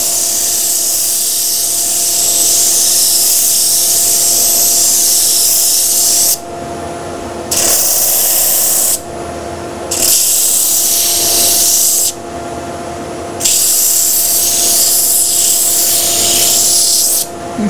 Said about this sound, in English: We're sort of really rounding those edges over, using the corner to get into the convex curves.